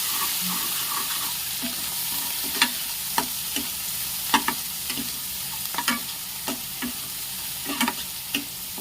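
Gravy being stirred into a cashew gathiya curry in a pan, with a steady low sizzle under a string of short, sharp scrapes and taps of the spoon against the pan, close and moderately loud, no voices.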